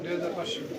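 Pigeons coo softly and continuously at close range on a pigeon farm, a low throaty burbling that carries through the whole moment.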